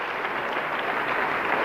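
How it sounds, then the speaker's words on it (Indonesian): Audience applause at a church sermon, a short dense patter of many hands clapping steadily at a fairly close, even level, with no voices heard. "Orang Indonesia jangan tepuk tangan dulu."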